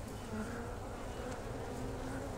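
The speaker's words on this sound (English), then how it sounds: "So here's my frame of bees I'm going to shake." Honey bees swarm over a brood frame before being shaken off, a dense, continuous droning hum close by, steady and fairly loud, with no talking.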